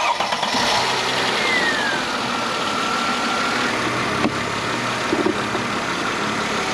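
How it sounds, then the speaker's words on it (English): A Mercedes W211 E320 is started and settles into a steady, smooth idle, a loud, close engine hum holding evenly with a couple of faint clicks and no talk. "So let's hear the engine."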